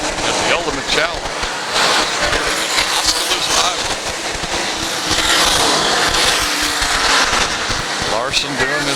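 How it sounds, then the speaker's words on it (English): USAC sprint cars roar around the track during a 30-lap A main, engines loud and continuous with passing surges, while an announcer talks over the racing. "We will be halfway for the 30-lap A main here for USAC sprint cars at the Ultimate Challenge."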